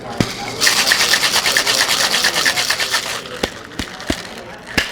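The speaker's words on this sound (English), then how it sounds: "I'm gonna give that a shake." A cocktail shaker holding dry curacao and ice is shaken hard for almost three seconds in a fast, steady rattle, close and loud. A few separate knocks and clinks follow once the shaking stops.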